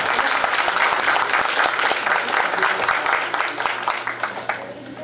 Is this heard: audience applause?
yes